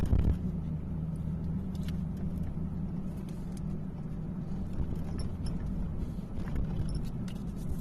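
Inside a car driving along a road, with a steady low engine and tyre rumble and occasional slight swells in the motor noise, with no talk.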